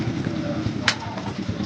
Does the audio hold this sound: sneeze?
no